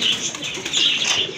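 Pigeons cooing and calling at a busy pigeon market, a dense continuous chorus of soft coos and chirps close by, with no talking.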